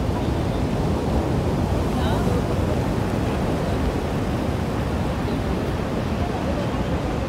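Heavy sea waves break and roar continuously at Puri beach during rain, a dense wash of surf mixed with wind buffeting the microphone.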